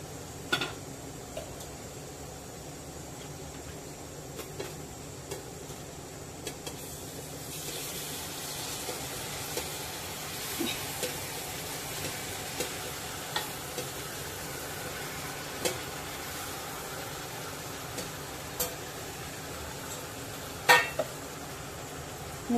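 Goat head sautéing with spices in a pan, giving a steady, fairly soft sizzle with scattered small clicks and ticks throughout and no talking.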